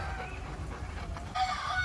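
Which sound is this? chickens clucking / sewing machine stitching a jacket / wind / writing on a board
chickens clucking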